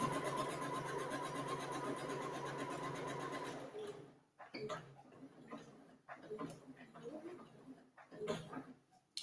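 Sewing machine stitching fabric for a wrap skirt, a steady loud whirring run for the first few seconds that then stops, followed by quieter talking with small handling noises.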